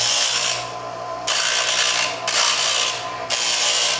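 Feeler gauge stock held against a bench grinding wheel to take burrs off its edge, three harsh rasping passes of grinding separated by brief pauses, loud and close with the wheel whirring underneath.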